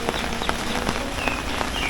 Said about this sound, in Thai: จนถึงขณะนี้ฝนก็ยังไม่หยุด